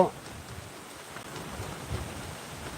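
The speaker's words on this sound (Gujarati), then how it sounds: "આ બધો વરસાદ અત્યારે ચાલુ થઈ ગયો છે" Heavy rain in a windy, storm-like downpour, a dense, even hiss of falling water heard at a moderate distance throughout, with no distinct drops standing out.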